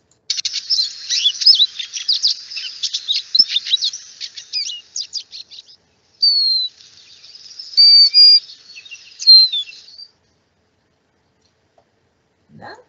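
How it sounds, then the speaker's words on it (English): A lesser goldfinch sings a run of rapid high chirps and twittering notes, then several clear, drawn-out whistled phrases, close and distinct against an otherwise silent background. "the lesser goldfinch"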